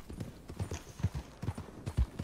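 Horse hooves in the video game Red Dead Redemption 2, a steady, rhythmic clip-clop of a galloping horse, moderately loud and close, with no speech over it.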